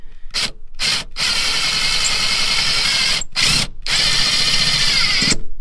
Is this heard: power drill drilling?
yes